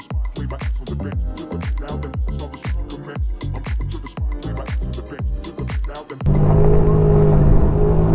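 A Ferrari 599 supercar at a car show gives a series of loud, sharp engine revs, each burst climbing and dropping in quick rhythm, before settling into a sustained roaring drone close by.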